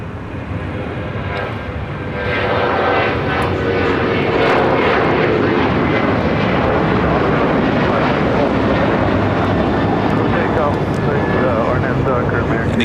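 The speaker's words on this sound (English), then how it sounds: "the Asiana A380 Super now making that left-hand turn onto Lima" An Asiana Airbus A380 taxiing at LAX, turning onto a taxiway, gives off a loud, continuous jet-engine roar that swells slightly and holds steady, with someone talking over it.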